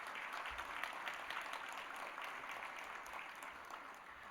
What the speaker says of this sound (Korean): 박수로 한번 환영하고 격려하겠습니다.